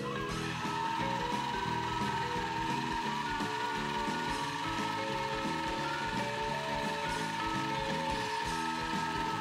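A countertop blender whirs steadily, mixing a drink before it is poured into a baby bottle: one unbroken mechanical grinding hum for several seconds, with no voices.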